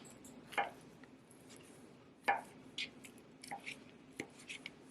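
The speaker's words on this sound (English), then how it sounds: "Just going to chop it into the chunks." Knife chopping food into chunks on a cutting board, a few sharp irregular thuds spaced apart, close and moderately loud over a quiet room hum.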